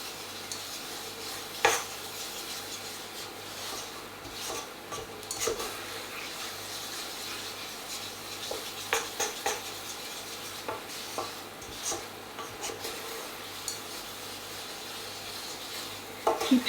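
Spoon scraping and stirring coq au vin with puree in a slow cooker, soft repeated rubs and occasional clinks against the pot over a low bubbling simmer, close and fairly quiet.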